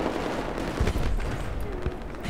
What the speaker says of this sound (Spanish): Dando los balazos a la